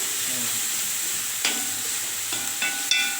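Tomatoes and garden vegetables sautéing over low heat in an iron kadai: a steady, close sizzle broken by a few sharp scrapes and clinks of a spoon against the pan, with no talking.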